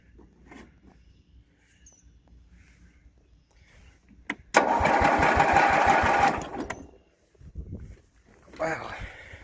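A Briggs engine on a barn-find 1981–85 Simplicity 5116 Special lawn tractor bursts into a loud, fast-pulsing run for about two seconds, then cuts out. Softer mechanical noise follows, with quiet stretches before and after.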